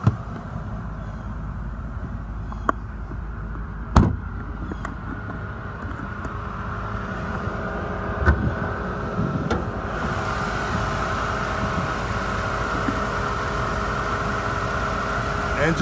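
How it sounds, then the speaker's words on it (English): A Ford Taurus engine with 114,505 miles idles steadily with a low, continuous rumble, a few sharp clicks and knocks early on, and a brief rise around the middle. "Engine sounds good. On idle, sounds good when you rev it up."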